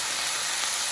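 Thinly cut cabbage sautéing in a pot makes a brief, steady soft sizzle and hiss with no voices.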